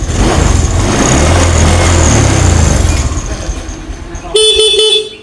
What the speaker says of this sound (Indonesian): Oke, motor sudah menyala, sudah bisa starter.